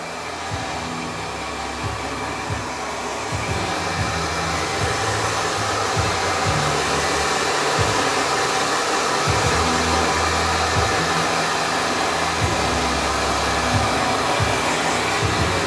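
A hair dryer blows steadily and loudly throughout, a constant whirring rush of air with a faint pulsing hum and no voices.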